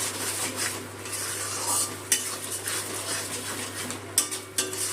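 Cashews, yogurt and ground spices with sugar are stirred in a pan over low gas for a Bengali katla kalia, with a spoon scraping and clinking against metal over a soft sizzle and two sharper knocks, and no talk.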